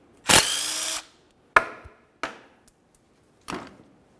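Power tool spinning out the last transmission oil pan bolt on a 2005-2010 Chevrolet Cobalt: one longer whirring burst followed by three short sharp zips, close and clear in a quiet space.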